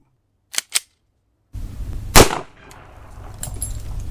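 Two sharp, distant-sounding pops are followed by a louder, close .40 S&W pistol shot from a Beretta 92, with a ringing tail and background noise after it.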